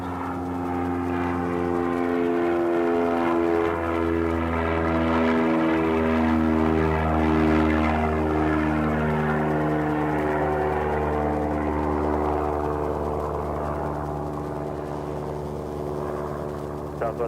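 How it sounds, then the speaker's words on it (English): A Beechcraft Sundowner light propeller plane drones steadily at an airport, its engine hum rich in harmonics and wavering slightly in pitch as it holds loud and near throughout, with no talking. "What you can hear there is a beach sundowner."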